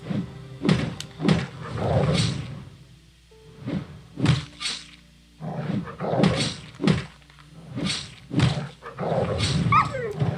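Dogs in the video game Warhammer Odyssey bark and yelp in repeated sharp bursts over roughly ten seconds, close and fairly loud, mixed with combat thuds.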